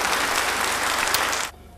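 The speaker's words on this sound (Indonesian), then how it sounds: "Semua beri tepuk tangan." Applause from a church congregation, a dense steady patter of clapping that fills the space at full loudness and then cuts off sharply near the end.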